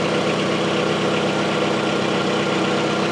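The engine of a 1985 Cadillac Cimarron runs at a steady idle after months of sitting, a close, constant rumble with an even vibration throughout.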